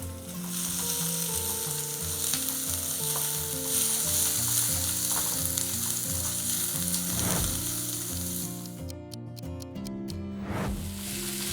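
Two finely chopped onions frying and sizzling in a pan for a corn and spinach curry; a steady, close crackle continues throughout beneath tonal background music, with a brief stir near the end.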